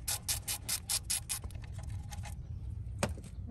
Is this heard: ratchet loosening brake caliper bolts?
yes